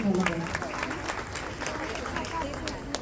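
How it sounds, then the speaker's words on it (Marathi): Audience applause at a Women's Day function in a hall, a steady burst of clapping from a crowd with murmuring voices underneath, lasting throughout at moderate loudness. "त्यांच्यासाठी जोरदार टाळ्या वाजवा"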